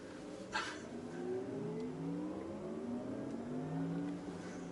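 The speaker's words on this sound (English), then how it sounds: "I'm putting my foot down in a linear manner." A Porsche Taycan 4S electric car accelerating smoothly, its rising electric motor whine climbing steadily in pitch over a low road rumble, quiet and continuous, with no voices.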